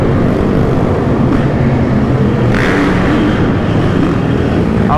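A supermoto motorcycle engine runs loud and close in city streets, a steady rumbling roar with some wind buffeting and a brief rise in intensity midway.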